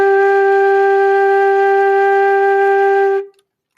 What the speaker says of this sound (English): my low G on the flute sounds like this.